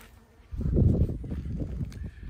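Honey bees at a top bar hive hum in a close, steady buzz that swells loudly after a quiet start and holds for a couple of seconds.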